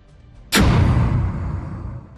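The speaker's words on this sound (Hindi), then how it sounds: "कैसे धमाकों की आवाज लगातार सुनाई दे रही है" A single heavy explosion during a rocket attack in Ashkelon, Israel, lands as a sudden loud blast and then rumbles on, fading slowly over the next couple of seconds.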